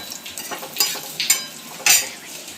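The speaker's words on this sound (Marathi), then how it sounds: "इकडे आपण मसाला भाजत आहोत." Masala and coconut being roasted and stirred in a pan for a Vidarbha black-gravy soybean curry, several distinct scraping strokes with a faint sizzle, close and moderately loud, no talking.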